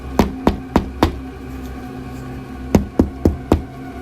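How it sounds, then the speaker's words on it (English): Two groups of four firm, evenly spaced knocks land on a door up close, separated by a pause of about a second and a half. "he knocked on the door a few times"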